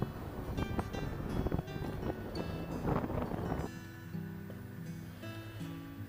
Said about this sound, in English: As you can hear in the background, that wind is a bit of a nightmare